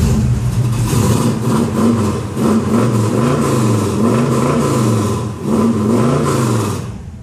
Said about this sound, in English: Car's got a mean rumble to it.